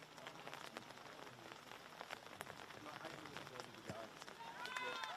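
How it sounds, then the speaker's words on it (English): Rain falls steadily at Kirkham Park during a schoolgirl rugby match, a constant soft hiss of drops hitting the ground with faint crowd sounds and a commentator talking. "the rain really does start to tumble here at Kirkham Park"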